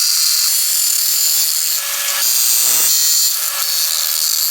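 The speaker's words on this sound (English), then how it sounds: "Cutting the tie rod extension itself." A saw cuts through a tie rod extension during a front suspension upgrade on a Tacoma drift truck, giving a steady, loud, close rasping stroke with a brief pause near the middle and no talk.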